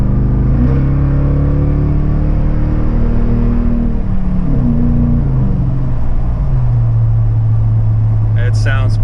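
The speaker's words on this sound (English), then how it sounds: "here's a video of the Outlaw exhaust while we're in the cab" A 2018 Toyota Tundra fitted with a Flowmaster Outlaw exhaust is heard from inside the cab, with the back window down, as it accelerates from cruising speed. The deep exhaust drone climbs in pitch through the gears, loud and close, with a brief voice near the end.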